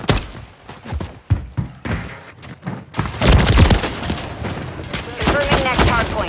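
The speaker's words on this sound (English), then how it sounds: "Hostiles deployed a remote turret." A remote turret fires in a Call of Duty match, a dense burst of rapid gunfire and impacts joining a busy battle soundscape after a stretch of scattered shots and game voice chatter.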